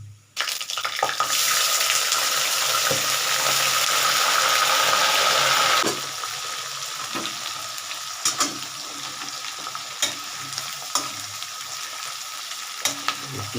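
Chopped onion frying in a pan for a Bengali chicken curry, a loud steady sizzle that fills the first six seconds and then settles to a quieter crackle, with occasional clinks and scrapes of stirring and no talk.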